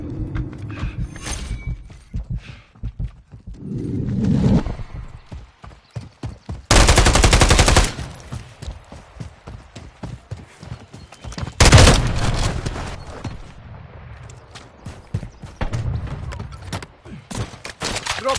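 Gunfire in the multiplayer mode of Call of Duty Modern Warfare III on PS5, with two dense, loud bursts of automatic fire standing out over an ongoing battle din of scattered shots and movement.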